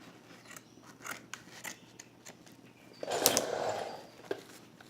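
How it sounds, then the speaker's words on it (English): Upholstery fabric being cut free on a large sofa during fabric installation, heard as close snipping and crunching cuts, a few scattered strokes then a louder sustained cutting burst, with no talk. "Let me see if I can't cut this free here."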